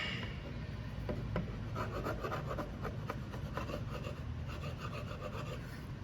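An old chisel scrapes dried glue off plywood on a box pedestal. The rhythmic rasping strokes are close and fairly quiet, with no talk.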